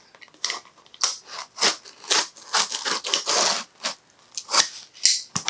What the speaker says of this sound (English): So got my trusty unboxing knife. This is Big Red, the box cutter, and I'm just going to cut.